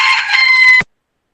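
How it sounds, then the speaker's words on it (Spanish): A rooster crows once, loud and close, a bright strained call that holds steady for under a second and then cuts off into silence. "se está levantando el gallo"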